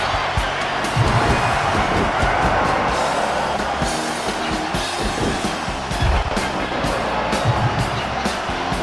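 A capacity arena crowd in the WWE No Mercy wrestling video game roars continuously during a casket match, a dense steady wash of cheering and noise with occasional thumps.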